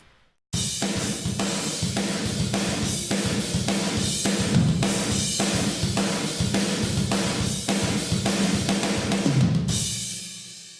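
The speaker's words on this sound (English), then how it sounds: "Now, the accent room mics sound like this." Full acoustic drum kit captured through accent room microphones in a studio, loud and steady with repeated kick and snare hits and bright cymbal wash, ringing out into room decay at the end.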